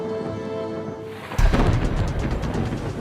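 A quiet hum gives way to a deep rumble that swells suddenly and rolls on, low and distant, like far-off thunder.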